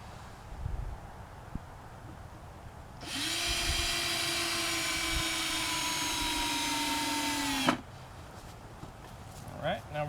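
A power drill drives screws into a wooden rack, a steady high whine lasting about five seconds between quieter moments with faint handling noises.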